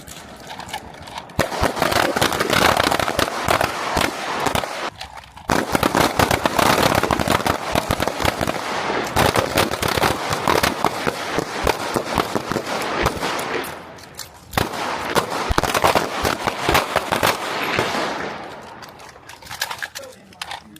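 Rifle and pistol fire on a U.S. Marine firing range at Camp Lejeune, North Carolina, with dense, rapid bursts of loud shots crowding together in long volleys, broken by brief pauses.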